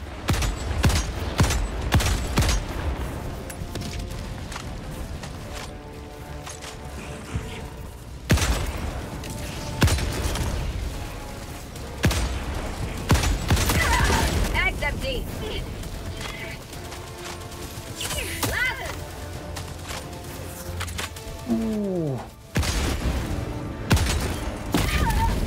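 Turret gunfire in Helldivers 2 during a fight against Automatons: repeated sharp volleys and bursts of shots with thuds and mechanical noises, loud and continuous, and a voice talking between them.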